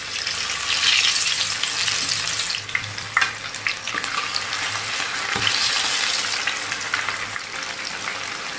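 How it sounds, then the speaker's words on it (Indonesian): Continuous crackling sizzle of a large whole chicken frying in hot oil, with bursts of louder spattering and occasional clicks of stirring. "Ini mau digoreng bareng sama si ayam kotok."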